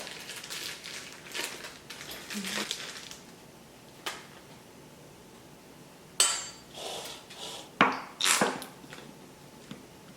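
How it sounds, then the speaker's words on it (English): Crockpot meal ingredients being mixed by hand in a big bowl, with soft irregular rustles and a few sharp clinks of utensils or dishes nearby, fairly quiet with pauses between. "So I'm going to take all of these ingredients and mix them together in a big bowl"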